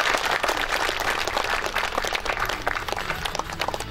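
A crowd applauds at the opening ceremony of a Yangpyeong Nonghyup gateball tournament, with dense, crackling clapping that stays loud and even for several seconds and then thins slightly toward the end.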